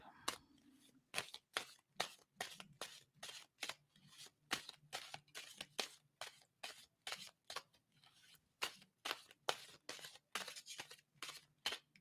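Tarot cards being shuffled by hand in a quick, irregular series of crisp riffling bursts, close and fairly quiet, with short gaps between each pass and a faint hum underneath.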